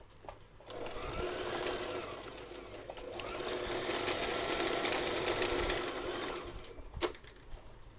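A sewing machine stitching a salwar, a steady, fast mechanical whir running for several seconds after a short start, close and clear, stopping briefly with a click near the end.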